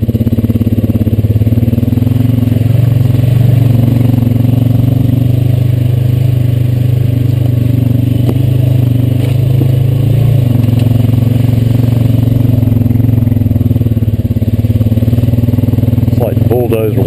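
A Honda Rancher 420AT ATV rides along a wooded land trail, its engine holding a loud, steady drone close by with slight shifts in pitch and some rattling.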